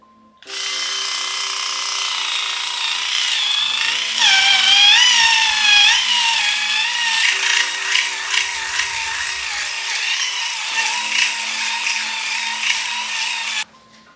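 Philips Series 5000 wet and dry electric shaver cutting a beard lathered with shaving gel, a steady close buzzing drone that shifts pitch slightly as it moves across the stubble, running continuously for about thirteen seconds without speech.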